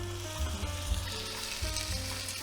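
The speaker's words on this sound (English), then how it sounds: "There's the sizzle." Oil sizzles steadily in a hot Dutch oven on the stove, a soft continuous crackle with occasional low bumps and thumps nearby.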